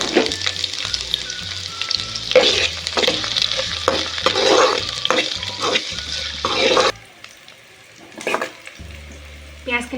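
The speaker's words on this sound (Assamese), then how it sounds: "তেল গৰম হৈ গৈছে অলপ অলপ এতিয়া মই পিয়াজ এটা কাটি লৈছিলো পিয়াজখিনি দি লৈছো" Chopped onions fry in hot oil in a pan for Assamese-style ghugni, a loud, dense sizzle with scraping stirs for about seven seconds before it drops to a quieter crackle and low hum, with no talking.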